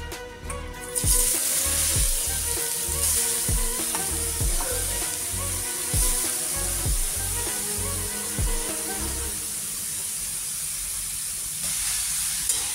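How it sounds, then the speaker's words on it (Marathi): Grated carrots for carrot halwa fry in a pan with a steady, loud sizzle and hiss, broken by regular scraping knocks as they are stirred, heard close with no talking. "आता आपण यामध्ये खिसलेले गाजर टाकून घेऊ"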